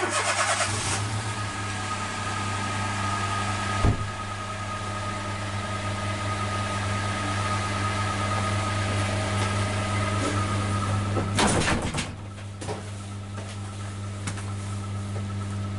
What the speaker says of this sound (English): you can hopefully hear the car engine puttering away to itself in the background